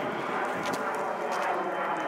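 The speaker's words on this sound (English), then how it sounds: "There's an aeroplane flying overhead." An aeroplane passes high overhead as a steady, distant broadband roar, faint and continuous, heard outdoors in a garden with no talking.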